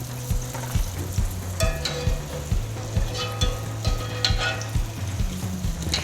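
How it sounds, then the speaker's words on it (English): Zeppole dough puffs sizzle and fry in hot oil for an Italian Feast of San Giuseppe pastry, a steady crackling bubble with a repeating rhythmic thump underneath, close and alone without talk. "you're just gonna fry this till they're light and golden"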